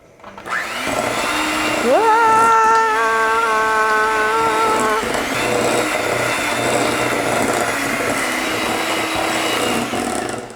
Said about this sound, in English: we'll just mix this with the hand mixer until it's light and fluffy